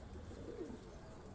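A soft, low coo from a Kashmiri pigeon, brief and faint beneath a steady hum of background noise.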